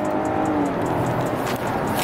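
Toyota Avalon engine pulling hard in manual mode, a steady loud drone of acceleration with rising engine tones held close throughout, briefly dipping near the end.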